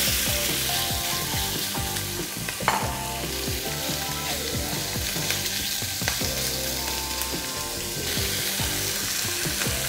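Chicken pieces frying in oil in a hot pot: a dense, continuous sizzle and crackle, close and fairly loud, with occasional knocks and scrapes and no talking.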